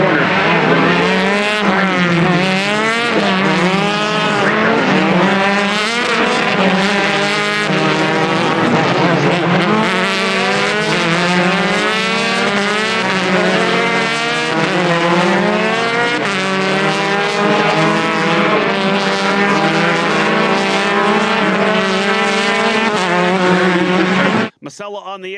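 Race cars at the Indy Grand Prix launch under the green flag, a loud continuous pack of high-revving engines with rising and falling pitches as cars accelerate and shift, close and sustained throughout.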